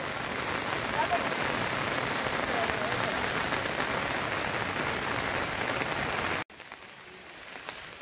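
Heavy monsoon rain pours steadily onto a flooded Konkan field and nearby house, a dense, loud hiss that cuts off abruptly near the end, leaving quieter ambience.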